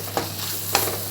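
Pepper powder being mixed into frying spleen in a pan, two quick scraping stirs over a constant close sizzle.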